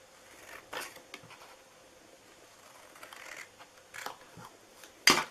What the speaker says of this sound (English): And then we're just going to cut close to these letters